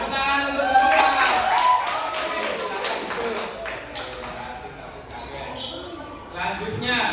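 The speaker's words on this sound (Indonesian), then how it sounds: "Tepuk tangan untuk Bapak." Applause for a presenter in a classroom, a scattered group clapping in irregular bursts that thin out, mixed with voices talking over it.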